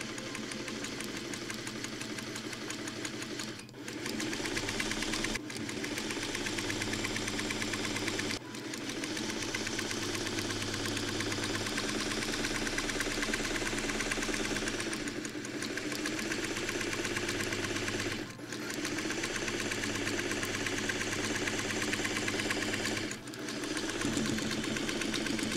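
A sewing machine stitching quilt sashing between scrap quilt blocks runs in a long, steady, loud mechanical whir close by, pausing briefly about every few seconds before resuming, with no voices.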